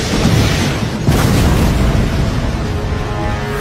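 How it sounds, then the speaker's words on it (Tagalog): A loud stage explosion in a TV drama roars as a continuous heavy boom with a sharp burst partway through, dense and close for the whole stretch, with no voices. "Biglang sumabog ang stage niya, Tanggol!"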